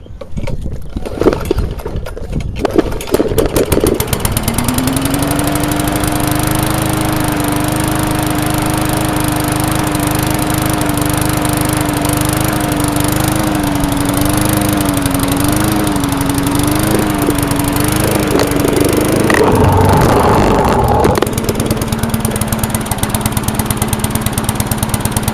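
A 3.5 hp push lawn mower engine runs rough in a loud, steady drone with a wavering pitch that surges and dips near the end. No one speaks over it.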